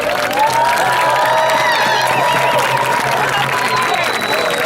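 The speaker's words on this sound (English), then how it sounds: "I want everybody to give themselves a round of applause for showing up and marching." A large outdoor rally crowd marching for Palestine in Minneapolis cheers and applauds loudly and continuously, with whoops and shouting voices throughout.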